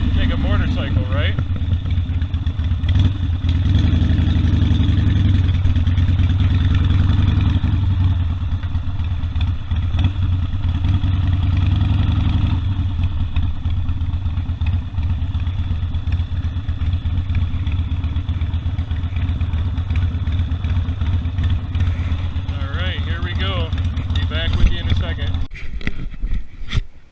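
A Harley-Davidson Sportster motorcycle engine idles with a deep, steady low throb for most of the stretch, then cuts off near the end.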